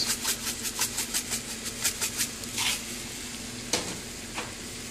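Chopped onion sizzles in a hot pan while being stirred, with a steady run of quick scraping strokes over the frying hiss and one sharper knock near the end.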